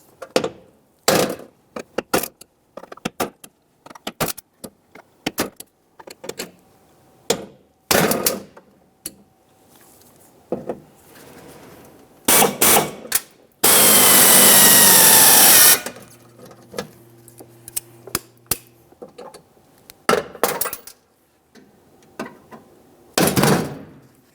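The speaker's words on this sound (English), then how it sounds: "Use the hammer and punch to drive out the center of each of the rivets." Repeated sharp metallic hammer strikes on a punch driving out rivets inside a 1998-2002 Lincoln Navigator door, irregular bursts close by, broken by a brief loud drill whir in the middle.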